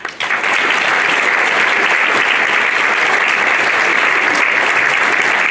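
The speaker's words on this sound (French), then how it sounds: "ces résultats méritent bien vos applaudissements" Steady, loud audience applause at a New Year's greetings ceremony for Saint-Dalmas and Saint-Étienne, dense clapping filling the whole stretch without letup and no voices over it.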